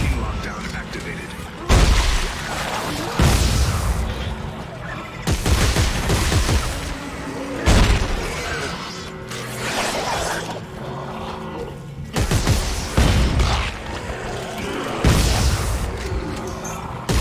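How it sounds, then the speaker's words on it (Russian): Repeated bursts of gunfire and heavy booms from the video game Dead Space 3, coming in loud volleys every couple of seconds amid a steady background rumble of game noise. "Он сейчас просто не почувствовал моего выстрела."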